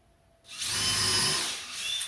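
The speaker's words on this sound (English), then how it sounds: "I want to pre-drill a little bit so that it don't split the lumber." A power drill starts up after a brief quiet moment and runs steadily, whirring close by as it pre-drills into lumber for a tire crib, then eases off near the end.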